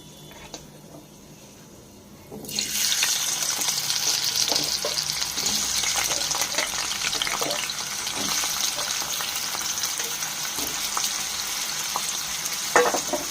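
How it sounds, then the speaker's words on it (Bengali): Potatoes dropped into a pan with dry chilli tempering, setting off a sudden loud, continuous sizzle of frying that holds steady with faint stirring scrapes, close by and with no talk. "আলুগুলো দিয়ে দেওয়া হলো, ভাজা ভাজা করা হচ্ছে"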